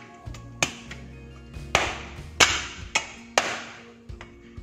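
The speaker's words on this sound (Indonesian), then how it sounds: "Oke, jahenya kita kepret." Several sharp, hard thwacks of a piece of ginger being smashed against a board, spaced irregularly, close and loud with quiet gaps between.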